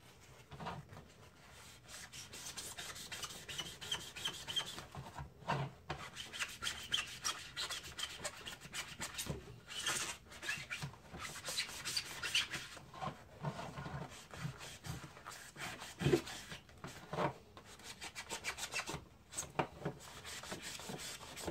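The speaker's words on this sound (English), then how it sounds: "Watch this magic eraser go to town." A magic eraser scrubs a dirty SNES game cartridge in quick, uneven back-and-forth rubbing strokes, close and fairly quiet, with brief pauses between bursts.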